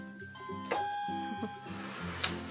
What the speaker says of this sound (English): Ring his doorbell.